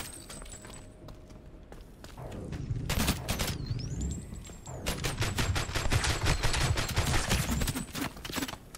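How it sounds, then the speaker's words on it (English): An AK-47-style assault rifle firing in a shooter video game, with long rapid bursts of loud close gunfire separated by a brief pause, with a whooshing slow-motion effect and electronic tones in the background. "Let's try the assault rifle, dude."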